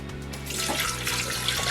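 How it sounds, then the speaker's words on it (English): Water poured steadily into a pot of beef for a kare-kare stew, a continuous close splashing and gushing stream running throughout. "Just add 800 ml of water to the beef."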